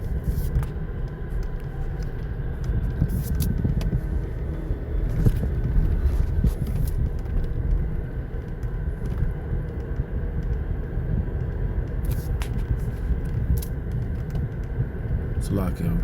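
Steady low road rumble of traffic heard from inside a car, a continuous engine and tyre drone running throughout with no clear breaks.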